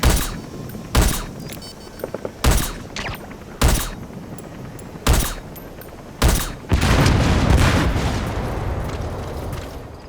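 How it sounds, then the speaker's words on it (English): Explosions in Metal Gear Solid V, a run of six sharp booming blasts at roughly one-second gaps, then a final heavy explosion that rumbles on and slowly decays. "Though security will be tighter after that explosion."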